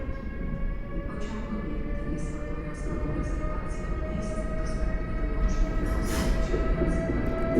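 A long locomotive-hauled train pulls out of Warszawa Centralna station, a low steady rumble and hum building under station ambience, with someone speaking over it.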